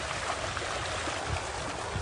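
Water flows along an irrigation ditch beside farmland in a steady, gentle rush of noise, with faint trickling and gurgling moving beneath it and no voices.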